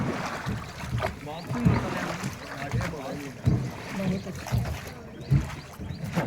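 Steady water and motor rumble from a boat ride on the Narmada river near Jabalpur, with wind buffeting the microphone and faint voices murmuring underneath.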